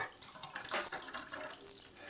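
Water runs from a Price Pfister shower faucet valve, draining in a faint, steady hissing trickle with soft splashy fluctuations throughout.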